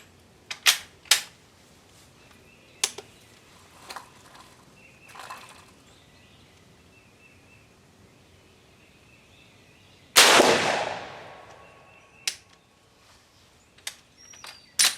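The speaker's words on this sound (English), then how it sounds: "These old classic guns are fun to shoot." An old classic rifle firing converted .50-70 ammunition gives one sharp, loud shot with a ringing decay partway through, surrounded by faint clicks and handling thumps in an otherwise quiet outdoor setting.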